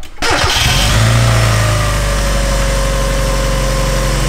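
A turbocharged Mazda Miata engine cranks and fires, then settles straight into a loud, steady idle with a deep exhaust rumble that continues close and alone to the end.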